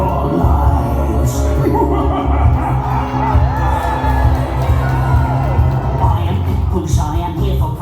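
A crowd cheers and whoops at a Halloween theme park show at Paultons Park, a dense, loud wash of voices with shouts and children's cries running steadily throughout.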